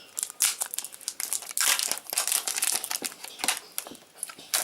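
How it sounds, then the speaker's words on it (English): Plastic protective film being peeled and crinkled off a new Samsung Galaxy M20 phone, a close, continuous run of sharp crackling and rustling bursts with brief pauses. "Let me remove the plastic over it."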